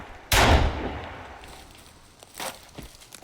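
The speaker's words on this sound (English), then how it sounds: "I think I got him with that first shot." A single loud gunshot from the survival video game Sons of the Forest, a sharp close blast with a decaying tail, followed by a few faint thuds like footsteps.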